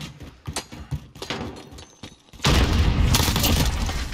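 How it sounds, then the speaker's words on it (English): A grenade detonates in a modern first-person shooter free-for-all match, a sudden heavy boom that swells into a sustained roaring blast after a stretch of quieter game noise. "Grenade out!"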